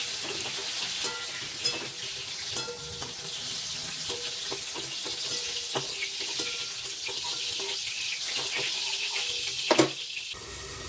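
Bottle gourd pieces fry in oil in a pan, a steady close sizzle running throughout with occasional clinks and scrapes as the pieces are turned, and no talking.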